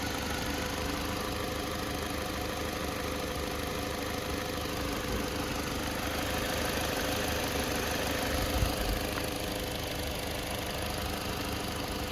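The 2.0-litre petrol engine of a 2017 Toyota C-HR with automatic transmission idles steadily, a constant low rumble with a faint mechanical ticking, no voices, holding even throughout.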